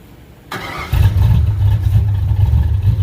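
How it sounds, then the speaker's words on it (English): A Mercury Comet's engine cranks briefly and then fires up into a loud, steady, rumbling idle close by. "Effortlessly fires right up."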